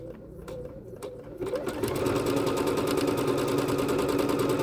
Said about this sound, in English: Let's go ahead and drop our presser foot down, remembering that we're always centering on our center test line, and needle down. Let's stitch.